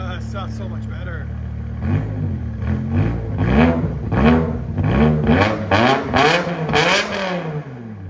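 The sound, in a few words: BMW M5 5.0L V10 engine revving with straight pipes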